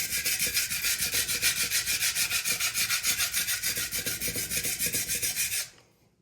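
A kitchen knife is drawn steadily across a whetstone in quick, even rasping strokes, a close, continuous scraping rhythm that holds for several seconds before stopping abruptly.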